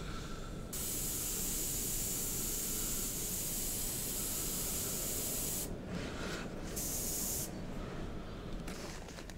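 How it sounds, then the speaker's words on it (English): An airbrush sprays thin coats of white paint onto a 1/32 Zoukei Mura Bf109G-14 model, making a steady, soft hiss with a couple of brief pauses. "whilst I've got the white in the airbrush,"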